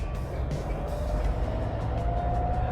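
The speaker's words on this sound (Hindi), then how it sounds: "लेकिन जब हम गाड़ी ड्राइव करेंगे" A car being driven, with a steady engine and road rumble heard from inside the cabin, continuous and moderately loud, with a faint rising tone underneath.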